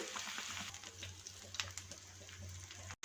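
A cornflake-coated Kurkure burger patty fries in hot oil with a soft, continuous sizzle and scattered pops, faint and close, ending in a brief cut of silence.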